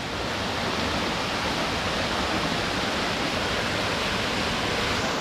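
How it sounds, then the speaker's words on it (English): A waterfall on the Watkin Path in Wales pours in a constant, dense roar of rushing water, close and unbroken throughout, with no voices. "absolutely stunning waterfalls"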